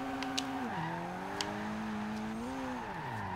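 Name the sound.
turbocharged Toyota MR2 SW20 engine in video game Forza Horizon 2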